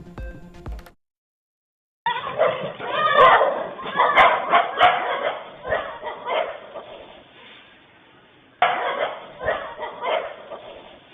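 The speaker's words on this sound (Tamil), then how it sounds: "தெருநாய்கள் துரத்திய போது சிறுவன் தலை தெறிக்க ஓடும் சிசிடிவி காட்சி வெளியானது" Street dogs bark and yip in rapid, overlapping bursts in night CCTV footage, loud and fairly close, with a short silent gap early and a steady barking stretch that breaks off before resuming.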